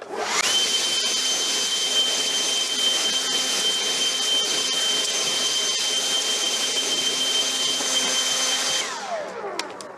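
A handheld leaf blower runs at full power, giving a loud, steady, high-pitched whine with a constant airy roar for about nine seconds before it cuts off and spins down, close with no talk.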